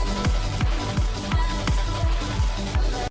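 Music from the underground horror sequence of the video game Stellar Blade, with a pulsing beat of repeated low thumps sounding at a steady pace under a dense, continuous layer of sound.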